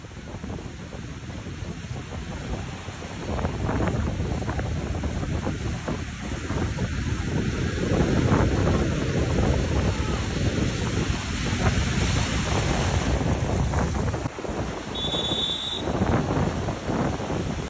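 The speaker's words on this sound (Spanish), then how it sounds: "Cuando te subes a una moto acuática." Jet ski riding over ocean waves, with heavy wind buffeting the microphone, rushing water and engine drone building and holding loudly throughout, a brief high chirp near the end.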